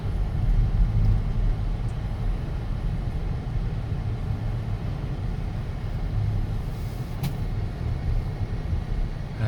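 A car cruising down Moffett Road, a continuous low road rumble and tire hiss from inside the vehicle, steady and unbroken throughout with no talk.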